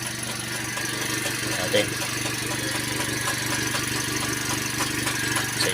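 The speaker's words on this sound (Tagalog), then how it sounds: "Eh kasi ang bulusing kasi yan sa exhaust niya. So dyan tumutunog." 2016 Toyota Vios idling with a leaking exhaust, a steady close engine drone with a faint hiss and light ticking, someone speaking over it.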